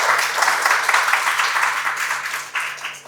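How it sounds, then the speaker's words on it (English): Audience applause at a poetry and oral hygiene awareness session in Bangalore: a steady wash of many hands clapping for a few seconds, fairly loud and close, with no one speaking over it. "can we have a big round of applause to support her?"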